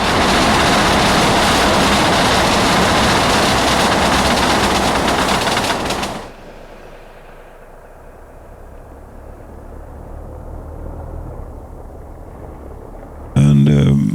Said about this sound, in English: There's actually a train coming over the bridge just as we arrive here.